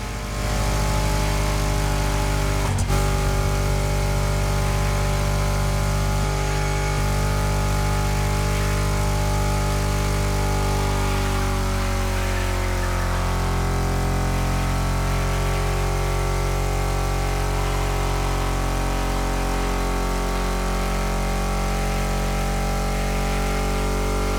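A tuned-up car engine in a racing video game hums and drones steadily for the whole stretch, close and loud, with a sustained low rumble and a brief rising rev near the start, no voices.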